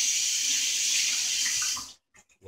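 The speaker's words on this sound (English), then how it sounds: "wash my hands here real quick" Water runs steadily from a kitchen tap over hands for about two seconds during barbecue rib cooking, a broad loud hiss that cuts off abruptly, followed by a few faint clicks and small sounds.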